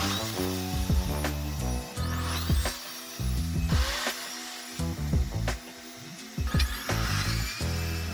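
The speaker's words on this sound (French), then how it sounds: "vous réglez votre scie à 45 degrés" A saw cuts 45-degree corners into a wooden picture frame, giving several rough, rasping bursts of cutting with short pauses between them, loud and close.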